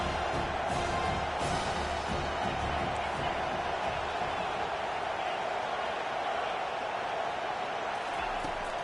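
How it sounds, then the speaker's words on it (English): A football stadium crowd roars loudly and steadily to back the home defense, a dense, sustained wash of noise filling the venue, with an announcer talking over it. "Listen to this crowd just shaking the girders of this place, trying to help their defense."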